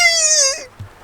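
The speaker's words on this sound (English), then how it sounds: "There is also a baby cockatoo crying at the top of its lungs right outside our camper van" A baby cockatoo cries right outside a camper van on a rainy night: one loud, high, drawn-out wailing call that slides downward and fades, followed by a brief soft thump.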